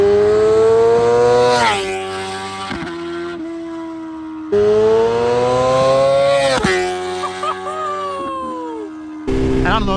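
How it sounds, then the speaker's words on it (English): A 2024 BMW S1000RR screams past in two close flybys, the high engine whine rising, then dropping sharply in pitch as it passes and fades, followed by a gear-change burst. "Also, here's a couple of flyby videos."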